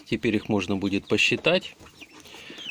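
Chickens, mostly hens and a few young roosters, cluck and peep nearby in short bursts while someone talks over them, the bird calls continuing faintly as his voice trails off.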